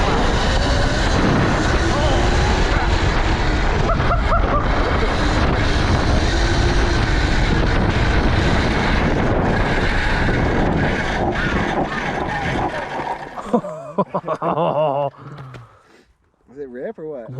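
An electric dirt bike pulls away from a standstill with a loud, rising whine buried in heavy wind roar. The noise cuts off near the end into brief scuffs and quieter rustling.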